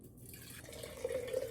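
Hot water just off the boil pouring into a glass teapot, a soft continuous trickle and splash that rises slightly in pitch as the pot fills, close and fairly quiet.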